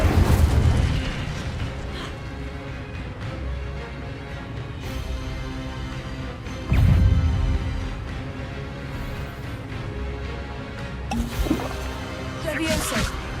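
A fire spell cast in Hogwarts Legacy, heard as heavy booming blasts near the start and around the middle, with a crackling burst toward the end over a continuous rumbling game soundscape.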